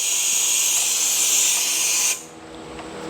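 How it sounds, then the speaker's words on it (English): Air-powered vacuum brake bleeder hooked to a shop air line on a 6.7 Powerstroke truck, a loud steady hiss of rushing air that cuts to a quieter hiss partway through. "Hook up your air line. This hooks to the bleeder. You crack this valve slightly to pull air, sucking out of here."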